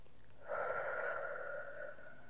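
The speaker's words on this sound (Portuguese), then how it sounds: "E aí você respira." A person takes one slow, audible breath close to the listener, a soft airy rush lasting over a second before fading, heard alone with no talking.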